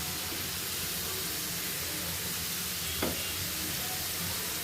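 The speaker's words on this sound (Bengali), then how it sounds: "আলুগুলো প্রায় ভাজা শেষ" Potatoes frying in oil in a covered pan give a steady, even sizzle that holds throughout, with one brief clink of utensil or lid near the middle and no voices.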